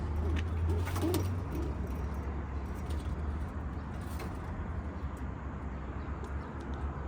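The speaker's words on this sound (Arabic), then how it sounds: "ركز هنا حمام الاسباني." Steady low cooing of Spanish pigeons runs throughout, with occasional chirps and faint clinks over a constant background hum.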